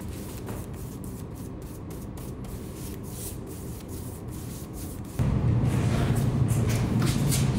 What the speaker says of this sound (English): And then I'll just work in little sections and buff and wax